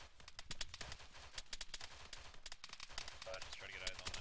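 Rapid gunfire in the military shooter game Arma 3, with bursts of sharp automatic and single shots cracking repeatedly across the whole stretch, some near and some distant, with voices over the top.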